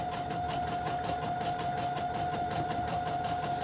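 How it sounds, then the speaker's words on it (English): A sewing machine runs continuously, stitching fabric and lace snippets with a fast, even whirring hum and a steady mechanical pulse, close and unbroken throughout. "Make sure everything is sewn down everywhere."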